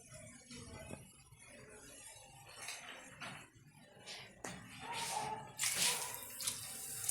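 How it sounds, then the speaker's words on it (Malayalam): Milk poured from a glass into a pan for a traditional Kerala ada pradhaman, a steady liquid pour that swells and grows louder toward the end, with light clatter and no talking. "2 ഗ്ലാസ് പാൽ നമുക്ക് ഒഴിക്കാം."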